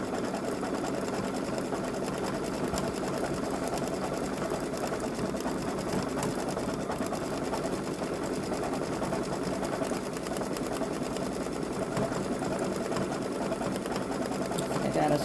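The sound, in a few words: Babylock Solaris embroidery machine stitching a design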